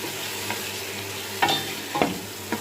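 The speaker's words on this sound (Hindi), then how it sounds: "अब चिकन को हम अच्छे से भुनेंगे ताकि इसमें कोई भी स्मेल वगैरह ना रहे" Chicken pieces browning in a spice masala for aloo chicken shorba, with a few soft stirs and scrapes rising over a low, steady frying hiss close by.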